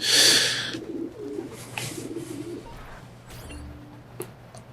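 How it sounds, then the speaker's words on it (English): Pigeons coo softly at pigeon coops in the video game Assassin's Creed II, a low, gentle murmur set against outdoor ambience after a brief louder rush of noise at the start. "Oh, and pigeon coops"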